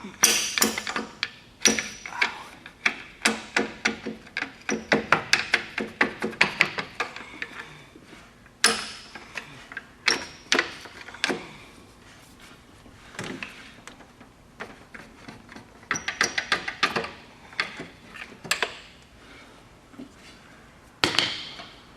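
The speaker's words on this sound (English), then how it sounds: "It's just a matter of prying it up." A power steering pump is pried loose on a GMC Yukon, with sharp metallic taps, clicks and scrapes of tools coming in irregular clusters, close and fairly loud, between short quiet gaps.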